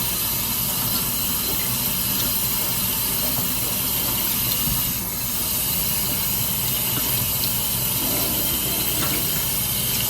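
Running tap water rinsing conditioner out of American Girl doll hair, a steady close hiss of flowing water that continues unbroken, with no voices.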